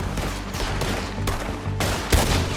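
Gunfire in Red Dead Redemption 2 during a shootout: a dense, ragged fusillade of overlapping shots for about two and a half seconds, with a louder, heavier blast near the end, all close and loud with no talk.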